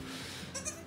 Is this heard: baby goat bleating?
yes